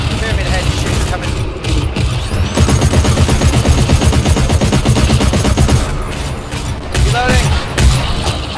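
Loud, sustained automatic machine gun fire in the video game GTFO, a dense stream of rapid shots that barely lets up across the whole stretch, with mechanical clatter mixed in.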